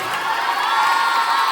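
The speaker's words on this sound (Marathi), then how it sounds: "जोरदार टाळ्या अमित सरांसाठी" Students at a tuition-class memory workshop cheer and applaud loudly for a teacher: a dense, steady roar of young voices and clapping that fills the whole short stretch, close and continuous.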